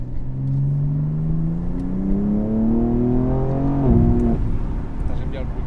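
A BMW M4 Competition engine revs up with a rising, throaty pitch climbing steadily for several seconds before a sharp shift and drop, heard from inside the car with a voice talking faintly in the background.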